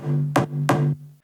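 Dubstep synth bass shot run through Decapitator distortion: a gritty, buzzing low tone with two harsh bright bursts punching through, then a sudden cutoff.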